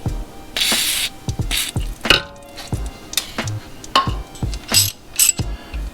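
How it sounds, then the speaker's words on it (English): WD-40 sprayed onto a bolt while lowering a BMW car: several short, loud hissing bursts from the can, each followed by clinks of the can and tools, close up with no talking. "Shoot this with the WD-40."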